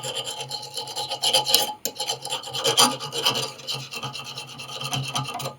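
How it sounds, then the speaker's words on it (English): Rough rasping strokes of a hand file dragged over hardened steel with the decarburized layer ground off, several uneven scraping passes close to the microphone with no speech. "I'm going to be running it over the top of this"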